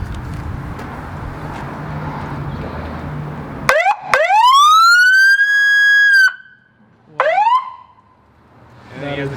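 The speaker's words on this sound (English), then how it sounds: "Yeah, so it is a real police siren." Real police siren fitted to a car, its rising wail starting abruptly after ambient noise, sweeping up and holding loud and near, cutting off, then a second brief whoop before background noise returns.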